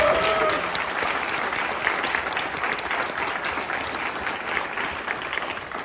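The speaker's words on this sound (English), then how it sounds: "give all those fine people a round of applause." An audience applauds after an afternoon brass band camp concert, with steady, dense clapping from a crowd that slowly tapers off.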